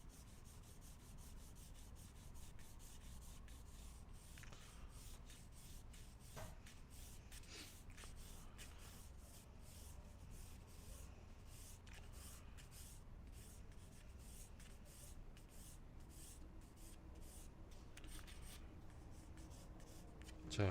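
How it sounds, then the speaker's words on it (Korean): Pencil strokes scratch across paper during a box-drawing line exercise, a faint continuous rubbing with repeated short drawn lines, quiet and close, no talking. "여기하고 여기가 똑같으니까 한번 여기를 한번 더 이렇게 선을 써볼게요"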